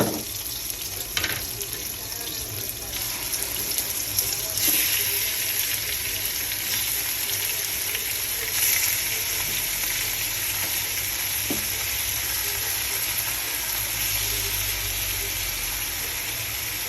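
Onion and then chicken frying in a pan for chicken adobo, a steady close sizzle running throughout with occasional stirring and clinks, no talk.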